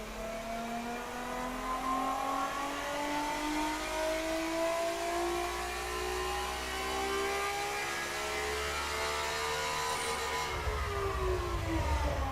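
Car engine in the game Automation, simulated for a Mazda MX5-style roadster build, revving steadily upward in pitch for about ten seconds before easing off, loud and continuous with no talk over it.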